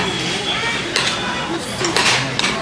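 Bibimbap stirred in a bowl with warm rice, spinach, egg and mushrooms at a Korean restaurant near Tongdosa Temple, giving soft clinks and scrapes of a utensil against the dish over a steady room hubbub.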